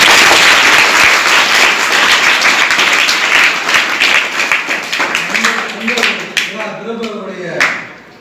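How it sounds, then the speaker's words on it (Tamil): A school event audience gives a guest loud, sustained applause that fills the room with dense clapping, then gradually tapers off as a voice begins speaking over the last few seconds. "நாம் அனைவரும் சேர்ந்து அவருக்கு நன்றியும் பாராட்டுகளையும் தெரிவிக்கின்றோம்"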